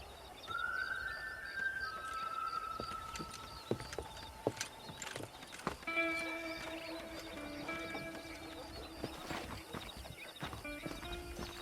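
Horse hooves clip-clop steadily in Red Dead Redemption while herding cattle out to pasture, mixed with game music tones and an occasional whinny.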